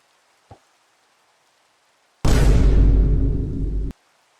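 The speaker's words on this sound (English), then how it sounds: "Dude, this rain's been going on for so long." Rain in Minecraft swells in abruptly as a loud, dense hiss of falling rain that holds steady for under two seconds and then cuts off, after a single faint click, with no talk.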